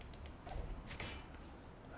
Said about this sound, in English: I think I heard something squeak.